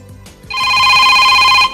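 A telephone rings loudly for an incoming caller on a live talk program, a bright electronic ringtone that starts abruptly and holds steady for about a second after some faint background sounds.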